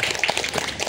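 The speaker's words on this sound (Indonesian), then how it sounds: "Tepuk tangan dulu ya" Audience applause at a community event, a dense burst of many hands clapping together at close range, steady and fairly loud across the whole moment with no voices on top.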